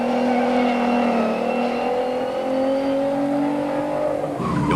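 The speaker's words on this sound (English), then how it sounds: "Everyone loves an Alpha, and the GTV of Carlo Andreatta and Johnny Robertson lives up to its sporty heritage" An Alfa Romeo GTV rally car driving past at a 1990 rally: a loud, sustained engine note holding steady and rising slightly in pitch, close and unbroken for several seconds.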